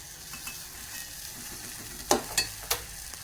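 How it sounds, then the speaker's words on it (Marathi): Ladle stirring sheera in a hot pan over a steady sizzle and frying hiss, with a few sharp scraping strokes near the end, close by and without talk. "यातले पाणी आटेपर्यंत सतत पळी फिरवत राहायची आहे."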